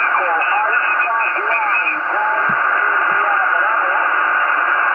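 An amateur radio station from Spain comes over a transceiver as a voice transmission, steady and band-limited with continuous noise. The signal holds throughout, with brief low thumps partway through.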